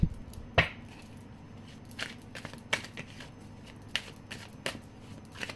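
Tarot cards being shuffled, a series of soft, quick riffling snaps and slaps at irregular intervals, close and fairly quiet, with no voices.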